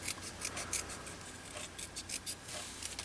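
Scissors snip through paper while cutting out star shapes for a handmade card, a series of quick, crisp close-up cuts in an uneven rhythm, quiet and without talk.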